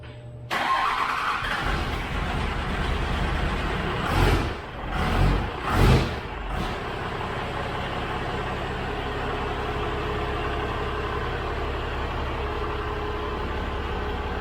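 A Cummins diesel in a 1966 Dodge crew cab cranks and catches, with a few surging revs before settling into a loud, steady idle that runs on alone.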